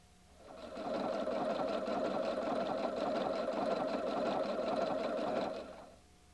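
A Husqvarna Viking Designer II sewing machine stitches a hem on knit fabric, a steady, fast motor whir with rapid needle chatter running evenly for about five seconds before stopping, close and alone.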